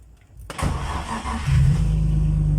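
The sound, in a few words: BMW E36 car engine starting via push button switch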